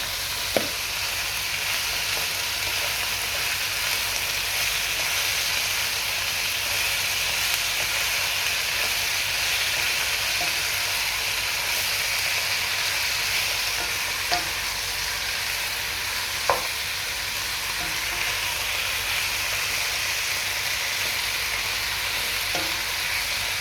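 Vegetables frying in a pan, a steady loud sizzle and hiss that runs throughout with a few faint clicks of stirring.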